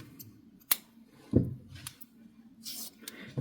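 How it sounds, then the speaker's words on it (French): Scissors snip through crochet yarn in a few quiet, close cuts with short pauses between them, along with small handling rustles. "Et je vais couper le fil."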